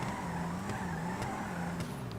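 An Ubermacht Zion XS in GTA 5 Online drones at a steady engine pitch with faint tyre noise, held close and loud with no speech.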